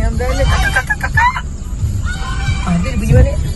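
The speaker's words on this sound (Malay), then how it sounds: "Oh, ni ada ayam Belanda dengan angsa." Turkeys and geese on a farm give a mix of gobbling and honking calls, several birds at close to moderate distance, heard over outdoor noise with a voice talking partway through.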